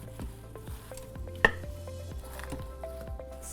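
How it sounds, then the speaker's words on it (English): Baby spinach leaves being stirred into a pot of soup, with repeated soft scraping and squishing strokes of a spoon against the pot and one sharper clink partway through, close and steady with no talk. "Stir that in."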